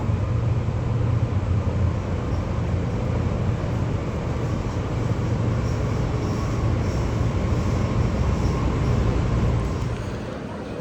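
A Sydney Metro train rumbles steadily at Martin Place station, a loud continuous low roar of rail and motor noise filling the whole stretch, easing slightly at the very end.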